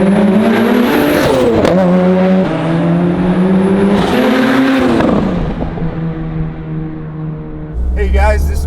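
Heavily modified 1995 Mazda RX7 rotary with about 700 hp, loud and close, revving in rising and falling sweeps with a sharp bark near the end, while a person talks over the engine noise.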